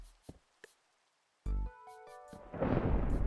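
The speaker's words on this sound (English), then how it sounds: "Thunder is very ominous" Thunder rolls in during a Minecraft hardcore game, beginning as a few faint clicks and a short tonal in-game sound, then swelling into a loud, sustained, rumbling roar that fills the last second.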